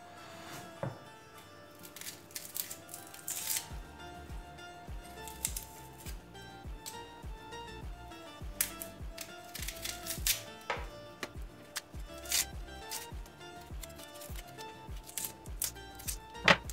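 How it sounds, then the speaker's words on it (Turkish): Onion being chopped with a knife on a cutting board in a home kitchen, a run of quick, close, sharp knocks in an irregular rhythm with no talking. "soğanımı doğrayarak işe başlıyorum."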